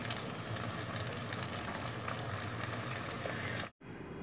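Okra and potatoes (bhindi aloo) cooking on low heat under dum, giving a steady, dense hiss of gentle sizzling and simmering that holds at an even level throughout, with no voices.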